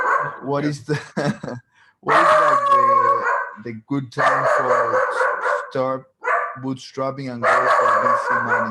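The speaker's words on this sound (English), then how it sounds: "Sorry about my dog's barking." A dog barks and howls in the background while a person talks continuously over it, the barks coming in repeated bursts throughout.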